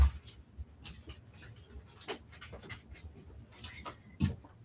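Dogs panting and whimpering close by while they wake their owner in the morning, with soft breathy huffs, small scratchy movements and brief whines, ending in a louder thump.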